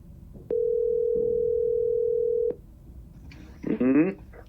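A HomePod Mini places a phone call through Siri, giving one steady electronic tone for about two seconds, then falling quiet before a voice briefly speaks.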